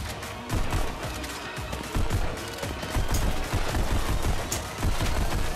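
Rapid gunfire from the VR shooter Pistol Whip, a steady run of dense shots layered over a pounding music beat, loud and continuous throughout.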